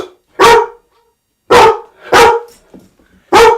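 A household dog barks loudly and close by at a delivery arriving at the door, giving four sharp, separate barks with short pauses between them.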